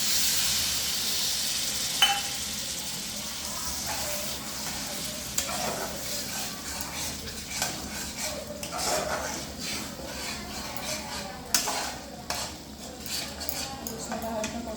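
Mustard masala for pabda fish curry sautéing in a pan, a soft steady sizzle with hiss and repeated scraping stir strokes, close and fairly quiet.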